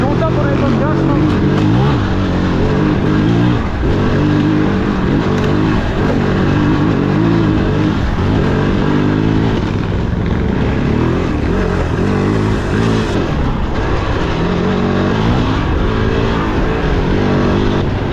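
A KOVE 450 rally motorcycle engine drones loudly and continuously on throttle during a rally liaison stage, its pitch wavering as revs rise and fall, with wind rush throughout.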